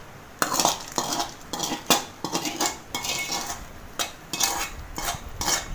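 Cashews and raisins tipped into a pot of sago payasam made with jaggery and coconut milk: a run of close metallic clinks and scrapes from a spoon against the vessel, in irregular bursts.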